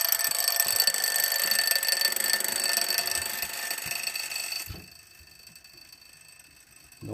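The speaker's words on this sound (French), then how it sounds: "Je vais le faire sonner." A mechanical alarm clock's bell rattles in a continuous, harsh buzzing ring for about five seconds, then stops abruptly, leaving quiet room tone with a faint click at the end.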